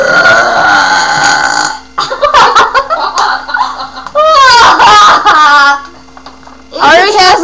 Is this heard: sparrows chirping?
no